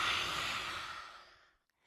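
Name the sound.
forceful yoga exhalation with tongue out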